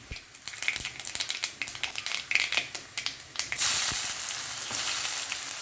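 Mustard seeds splutter in hot oil with rapid, irregular crackling pops. Onions then join the pan and the sound turns into a dense, steady, close sizzle.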